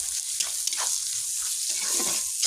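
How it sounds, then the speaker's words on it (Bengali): Crushed garlic paste sautéing in a hot pan, a steady close sizzle with occasional stirring scrapes throughout, no talking. "এই যে রসুন বাটা রসুনটাকে থেঁতো করে নিয়েছি তো এটাকেও কিছুক্ষণ কষাবো"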